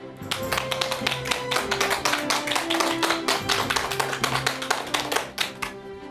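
Energetic applause from a crowd, dense and rapid clapping sustained throughout with no voices over it.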